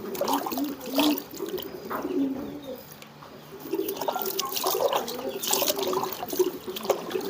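Water splashes and trickles as a pigeon is bathed, the wet patters coming in irregular bursts, close and fairly soft, with a brief lull midway.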